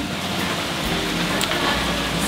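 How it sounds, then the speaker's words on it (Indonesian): Steady rain falls outdoors, a dense, even wash of drops pattering on surfaces that stays loud and unbroken throughout, with no voices heard. "Alhamdulillah, pas hujan ya."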